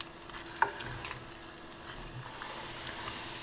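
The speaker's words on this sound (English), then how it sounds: "So you can see that it's sizzling really nicely." Steady, low sizzle of ginger and garlic frying in oil, with a soft clink near the start and no talking.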